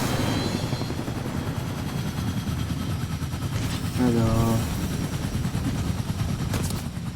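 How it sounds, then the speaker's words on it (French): Helicopter rotor drone in a battle-royale video game, a steady dense broadband hum throughout, with gunfire-like bursts mixed in and a brief voice speaking partway through. "Dommage qu'on puisse pas réparer cet hélico."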